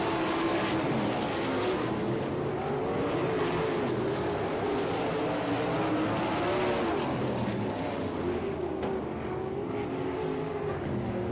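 410 sprint cars roaring toward the checkered flag at a dirt track in Fremont, Ohio, a dense, loud, continuous engine howl from several cars at once with shifting pitch.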